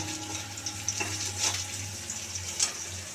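Onions fried in a pan and stirred after a spoonful of salt goes in, steady close sizzle with a low hum beneath and a few brief scraping clinks from the spoon, no voices.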